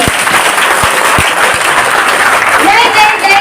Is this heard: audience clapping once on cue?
yes